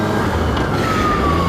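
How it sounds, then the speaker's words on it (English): A siren wails faintly in the distance, its pitch slowly gliding downward over a steady rumble of background noise. "Oh, I heard a siren."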